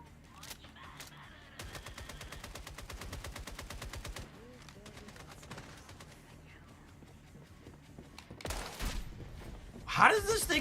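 Rapid gunfire bursts from a video game shooter, dense repeated shots in long volleys with heavier blasts near the end, mixed with game effects.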